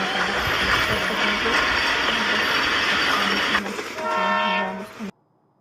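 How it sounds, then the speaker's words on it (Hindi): A train rumbles along loudly and steadily, then its horn sounds near the end, a sustained tonal blast before an abrupt cut to silence. "रे से रेलगाड़ी"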